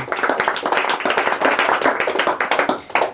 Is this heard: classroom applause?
yes